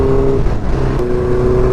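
A car engine with a modified exhaust runs loud and close on a street in Cuttack, a thick rumbling drone that dips briefly before holding steady again.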